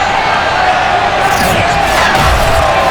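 Sold-out stadium crowd in Madden NFL 22, Bills against the Patriots, a dense continuous roar of cheering with a swell of whoops partway through, steady and loud throughout.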